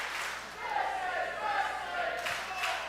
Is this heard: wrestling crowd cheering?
yes